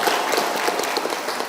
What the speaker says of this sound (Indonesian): tepuk tangan Ibu